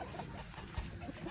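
Chickens at a Filipino gamefarm cluck softly for a moment, faint and a little distant, with no talk over them.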